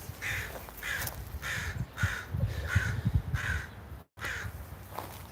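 Crows cawing from trees in a windy park, a steady series of about six loud, harsh caws spaced roughly evenly, with a brief gap near the end, over low rustling wind noise.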